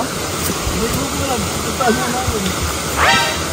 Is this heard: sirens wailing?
no